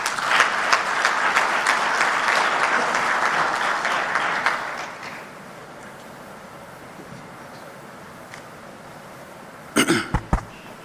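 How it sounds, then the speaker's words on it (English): An audience at a formal launch ceremony claps loudly and steadily for about five seconds, then the applause fades into a quiet hall with a few scattered coughs and bumps near the end. "Let's give her a big round of applause as she walks to her seat"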